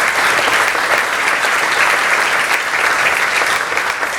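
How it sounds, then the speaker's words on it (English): Audience applause at a policy luncheon candidate forum, a loud, dense and even burst of many hands clapping, sustained without a break and no speech over it. "So big round of applause to all those who've done double duty."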